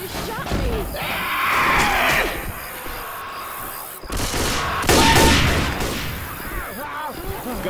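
Gunfire in Left 4 Dead 2 versus play, a few loud shot bursts mixed with crashing game effects, with players talking throughout.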